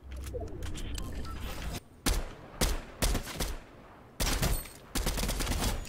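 Fortnite video game gunfire starts as a steady rattle, then breaks into sharp separate bursts of shots with short quiet gaps between them. The shots are loud and close, and no one speaks.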